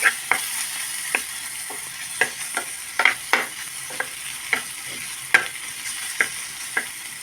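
A spatula scrapes and taps in a pan as garam masala and spices fry with a soft sizzle, about a dozen sharp stirring knocks at an uneven pace, no talking.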